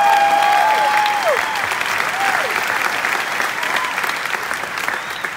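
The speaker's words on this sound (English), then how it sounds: "Let's give them another round of applause." Loud, sustained audience applause at a jazz concert fills the whole stretch, with a few whistles rising through the clapping early on before the ovation settles into a steady roar.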